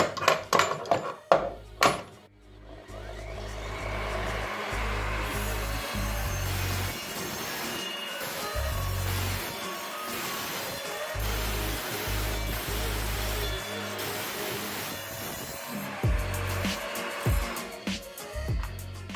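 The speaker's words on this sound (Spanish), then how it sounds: "es capaz de cortar también estos 3 tornillos" An Evolution R255SMS sliding miter saw cuts through three screws, throwing some sparks, with a loud sustained grinding roar that rises and dips over about fifteen seconds after a few sharp knocks at the start.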